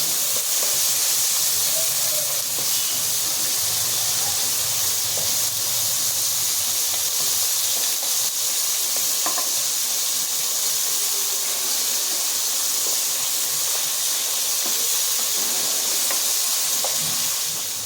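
Crabs being lightly fried in oil, a loud, continuous steamy hiss with scattered small pops and scraping, no voices.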